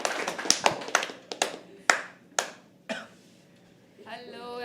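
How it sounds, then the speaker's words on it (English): A small audience at a live poetry open mic claps for a first-time performer, scattered sharp hand claps ringing out close by in an uneven rhythm before fading, followed by a brief voice at the end. "Everyone, start clapping. First time performer, start clapping."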